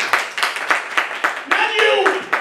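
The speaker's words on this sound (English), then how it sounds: "Give yourselves a round of applause" Audience at a live music-trivia show clapping in a loose, rhythmic round of applause, distinct hand claps close by, with a voice cheering and talking over part of it.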